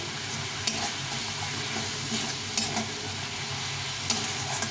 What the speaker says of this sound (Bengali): রসুন আর আদা বাটা দিয়ে সেটা ভালো করে কষিয়ে নিতে হবে